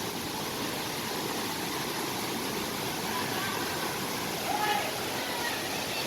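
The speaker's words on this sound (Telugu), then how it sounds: "Jalatarangini water fall." The Jalatarangini waterfall in the Maredumili forest rushes in the rainy season, a dense, steady roar of falling water that fills the scene evenly from start to finish with no breaks.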